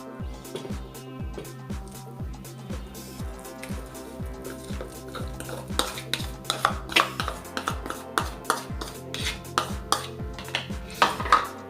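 Ground paste is stirred into buttermilk in a metal pot for mor kulambu, with a spoon knocking and scraping the pot in a quick uneven rhythm, close and clear.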